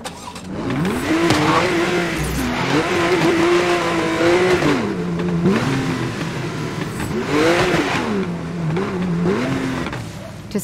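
Wheelspin and engine revving from a car at a race start in Need for Speed: Most Wanted (2012), a loud, continuous rising and falling engine note with tire squeal, steady throughout with no talk.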